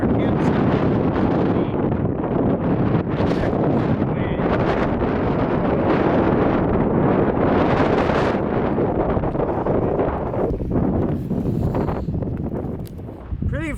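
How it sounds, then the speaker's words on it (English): Strong, gusting wind buffeting the microphone high on a mountain campsite, a loud continuous roar with surges that fills the whole stretch and eases slightly near the end. "Pretty nasty and windy up here."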